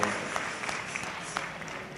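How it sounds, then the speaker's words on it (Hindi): A crowd at a Shiv Mahapuran religious gathering claps to welcome a visiting saint: a soft, steady wash of many hands with a few sharper claps standing out, heard from a distance for about two seconds. "जरा तालियां बजाकर उनका भी अभिनंदन करें।"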